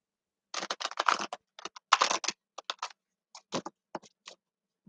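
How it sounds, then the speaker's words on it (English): A tarot deck is shuffled by hand close up, producing rapid crisp riffling clicks and flutters in uneven bursts separated by short pauses, with no voices. "Okay, 2 more shuffles, please."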